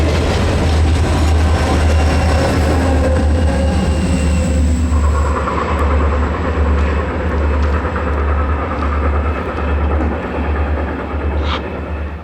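Norfolk & Western 611 steam locomotive climbs a grade toward North Mountain with helper diesels working, a loud continuous low rumble and rolling rail noise throughout, with faint metallic clicks and squeals.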